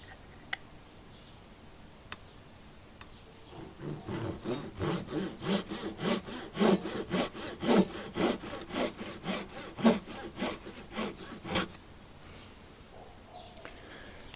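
A small saw cuts off the excess end of a plastic Wittner FineTune tuning peg fitted on an oud, producing a close series of quick rhythmic rasping strokes for about eight seconds after a few light clicks.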